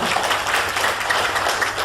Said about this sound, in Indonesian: Nah, tepuk tangan buat PTBS ya.